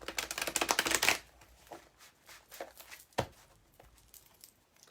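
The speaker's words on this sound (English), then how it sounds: "Okay, let me shuffle for Jackie." Tarot cards are shuffled in a quick riffling burst, followed by a few softer taps and slides as the deck is handled.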